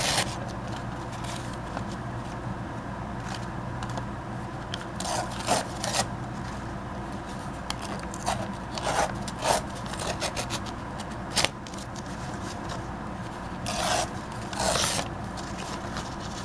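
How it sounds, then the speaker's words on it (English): A sheet of paper being ripped across by hand while making a mini journal, with several sharp tearing and rubbing bursts spread over a steady low background, close and fairly quiet. "I just grab my piece here and just rip it across."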